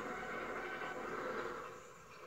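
Rotary snowplow train OY clears deep snow on the railway at Cumbres, giving a steady, faint mechanical rumble and grinding roar that holds evenly before easing off slightly at the end.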